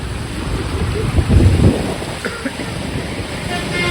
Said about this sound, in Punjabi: ਬਹੁਤ ਜਿਆਦੇ بارش ਹੈ ਜੀ